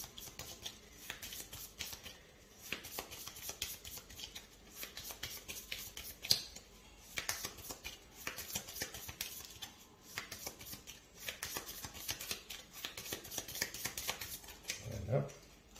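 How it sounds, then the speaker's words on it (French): A Harry Potter Hogwarts Battle card deck is shuffled by hand in repeated quick riffling and flicking bursts, close and moderately loud, with brief pauses between passes. "Donc là, on va mélanger le deck."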